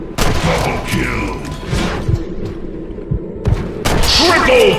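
Booming gunshots and heavy thuds from Red Dead Redemption: Undead Nightmare fire in quick succession, loud and close, with game announcer voice lines layered over the shooting.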